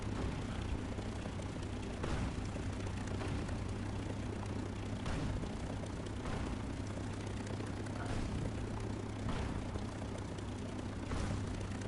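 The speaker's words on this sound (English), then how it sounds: "Now this is just a plane gliding. It's not under any power." An unpowered plane glides in War Thunder on PS4, a steady broad rush of wind and airframe noise with a constant low drone, punctuated by periodic soft thumps, loud and continuous throughout.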